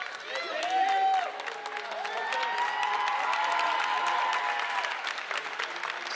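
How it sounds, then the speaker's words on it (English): Fans in the stands at a FIBA 3x3 Nations League basketball game give a standing ovation, with sustained loud applause and cheering, whistle-like tones rising over the crowd, and a commentator talking over it. "Standing ovation there from the stands"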